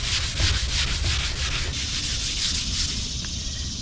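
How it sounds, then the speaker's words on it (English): Steady rhythmic hand sanding of car paint, a close, dry rasping scrub repeating back and forth with no talking. "It's sanding up pretty good."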